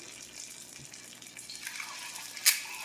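Pinto bean fritters frying in a pan, giving a steady soft sizzle that brightens and grows slightly busier partway through, with one sharp crackle or spatter near the end; no voices.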